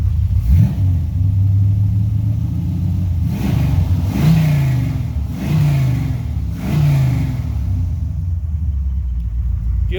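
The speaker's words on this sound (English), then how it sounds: "Exhaust sounds awesome." A 1975 Chevrolet Corvette C3's engine revs loudly through its exhaust in four distinct throttle blips, each a rising rumbling roar settling back to a deep burbling idle, close and unaccompanied by talk.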